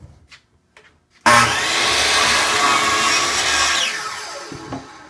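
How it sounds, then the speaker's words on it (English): An 8-inch Hitachi sliding miter saw bites into a piece of birch from northern Maine, a loud, steady whining cut that starts abruptly after a few quiet knocks and fades as the blade spins down. "I love this little 8-inch Hitachi slider."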